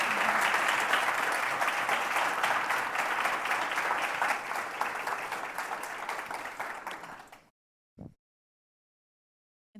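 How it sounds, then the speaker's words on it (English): Sustained applause from a conference audience for a panel, a thick steady roar of clapping that fades out after about seven seconds into silence, followed by a single brief knock. "Please give them a round of applause"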